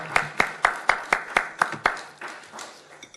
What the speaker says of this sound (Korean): 감사와 영광의 박수를 올려드리겠습니다